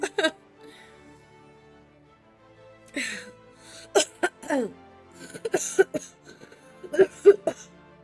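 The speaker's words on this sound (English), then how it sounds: "As I say that and start coughing." Several harsh coughs and throat-clearing bursts break out in scattered fits, close and fairly loud, with quiet gaps between them.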